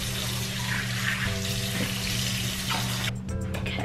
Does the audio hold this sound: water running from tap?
yes